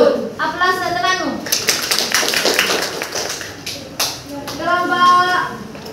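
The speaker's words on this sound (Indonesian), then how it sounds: "Aplaus untuk temanmu." Students in a classroom lesson clap for a classmate's group, a short burst of scattered applause that rises between stretches of people talking.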